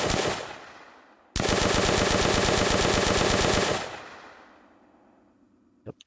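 Rapid gunfire from a weapon in an Unreal Engine zombie video game, fired in semi-auto mode: a loud, dense burst of repeated shots lasting a few seconds, then a decaying tail, with one short click near the end.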